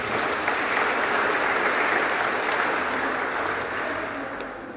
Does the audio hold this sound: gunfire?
no